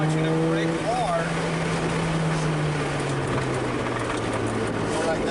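A Mazda FD RX-7 on a race track during a high-performance driving session, its engine droning steadily and closely throughout with a brief tire squeal, while people talk over it.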